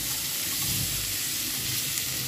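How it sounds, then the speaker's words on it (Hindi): Mustard seeds crackle and sizzle in hot oil in a pan, a steady close frying hiss with faint popping and no talk. "अब हम इसको हल्का सा भूनेंगे, राई को क्रैकर होने देंगे"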